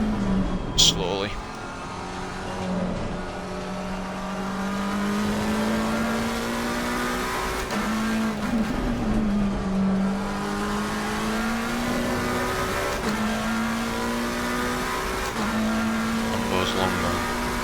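Race car engines in an Xbox racing game hum and rev steadily under a running voice while closing on a Porsche, with rising and falling engine drone throughout.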